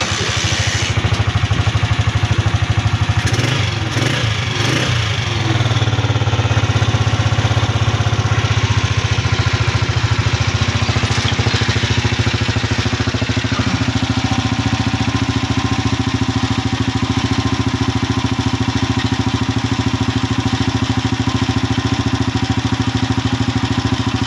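A small engine idles steadily and loudly after being choked to get it started while hot, a continuous close drone with a few clattery bursts near the start and no talking over it.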